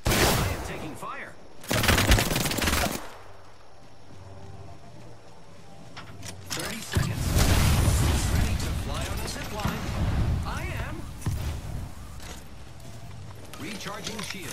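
Gunfire in Apex Legends: sharp, rapid automatic bursts and fusillades come in loud clusters over ongoing game noise and movement, with a voice talking over parts of it.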